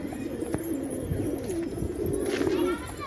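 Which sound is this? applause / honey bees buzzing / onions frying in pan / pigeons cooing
pigeons cooing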